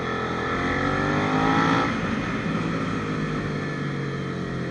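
A Suzuki SV650X 650cc motorcycle engine drones steadily while riding, with a brief swell in revs partway through amid continuous wind and road noise, heard alone without talking.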